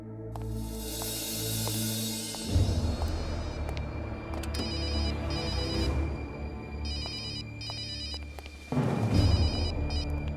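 A telephone rings in a repeated electronic ringtone, bright tonal bursts that keep pulsing over a loud, busy background of dramatic music for the whole stretch.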